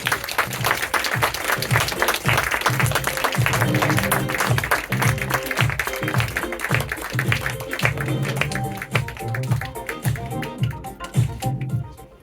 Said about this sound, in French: de rentrer sur scène, sous vos applaudissements